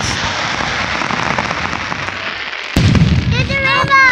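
A steady roar of Fourth of July firecrackers crackles throughout, then a sharp louder burst sets off a fresh flurry of pops, with excited voices and shrieks mixed in near the end.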